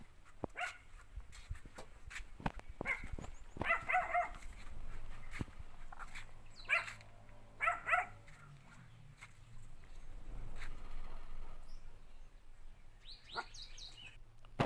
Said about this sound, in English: Our dog has been barking so much, I don't know why.